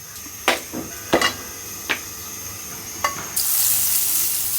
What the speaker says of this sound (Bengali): বাটারে ভাজবো।